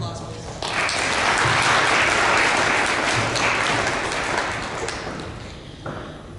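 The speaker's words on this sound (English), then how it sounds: "Another round of applause, please." An audience at a county pedestrian safety symposium breaks into applause that swells quickly, holds dense and loud, then tapers off toward the end.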